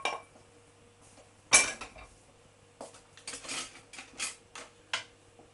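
Drained potatoes tipped into a pot of pumpkin in a home kitchen, giving a sharp metallic clatter of pots and utensils followed by several softer clinks and scrapes, close and without talk.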